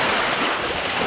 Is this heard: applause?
no